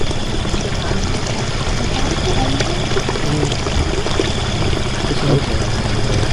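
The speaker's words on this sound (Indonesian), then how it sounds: "Oh ini kayak sungai ini." Steady broadband rush of water flowing in a river on a mountain spring site at Gunung Palintang, loud and continuous throughout with no clear pauses.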